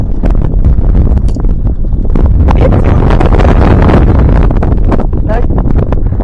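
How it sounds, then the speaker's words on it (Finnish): Strong gusts buffet an outdoor microphone while fishing for zander, a loud continuous rumbling roar with a voice briefly heard underneath. "Paljon helpompaa, jos ei tuulisi näin paljon."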